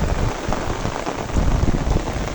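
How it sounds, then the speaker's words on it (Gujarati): Heavy rain falling outdoors, a thick steady patter and splash of drops on surfaces, close and constant with no one speaking. "મતલબ મસ્ત વરસાદ પડે છે."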